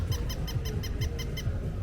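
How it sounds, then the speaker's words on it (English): A squeaking toy dog at a Brooklyn street festival gives about eight evenly spaced high squeaks in a quick steady rhythm, heard over a low, busy crowd murmur. "There's a little squeaking dog that we hear at every one of the festivals."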